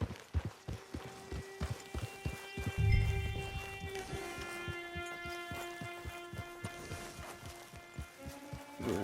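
Horse hooves clip-clop in Red Dead Redemption 2, a steady run of sharp, close hoof strikes with a soft whinny-like tone and music underneath.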